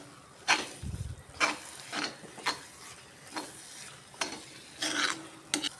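A spoon stirs fennel powder sizzling in a pan with mutton liver, making soft, evenly spaced scraping strokes roughly once a second over a faint, steady frying hiss, heard close up with no talk.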